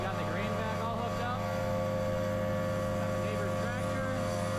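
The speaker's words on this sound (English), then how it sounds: "This is just a great grain vacuum, basically." A grain vacuum drones steadily beside a semi while cleaning oats out of a granary, a loud continuous mechanical hum with strong low tonal bands and no break.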